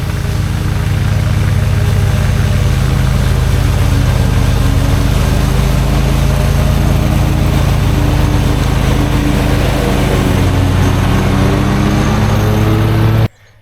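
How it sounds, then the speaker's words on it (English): Toro Z Master zero-turn riding mower cutting tall pasture grass, a steady loud engine drone with mower blade whir that runs unbroken at close range before cutting off abruptly at the end. "especially when I'm mowing these really tall grasses over here in the pasture"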